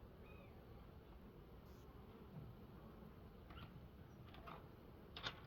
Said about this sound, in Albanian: Kjo është ajo bleta që po bënte fiu.